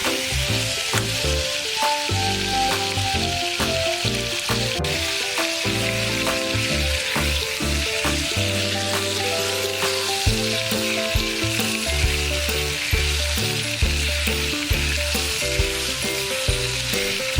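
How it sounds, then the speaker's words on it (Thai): Isan sausages fry in a pan without oil, sizzling and crackling steadily with occasional stirring scrapes, close and continuous with no talking. "เราก็จะทอดจนเขาสีเหลืองสวยดีแบบนี้นะคะ"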